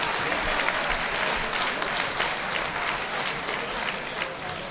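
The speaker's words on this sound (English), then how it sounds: "a massive round of applause for both of these young men" A crowd at a kickboxing tournament, a 48kg K1 semi-final, gives sustained, loud applause that holds steady across the whole stretch with no talk over it.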